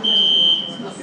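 A shrill electronic alarm tone sounds as a steady high beep for about half a second, then fades under low background noise.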